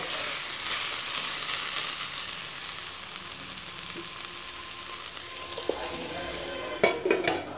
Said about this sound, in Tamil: நல்லா பச்சை வாசனை போகிற வரைக்கும் 2-3 நிமிஷம் வரைக்கும் அப்படியே நல்லா வதக்குறோம்.